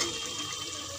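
Water pours steadily into a pot of arbi (taro root) curry cooking in a home kitchen, a continuous close splashing rush with no talk over it.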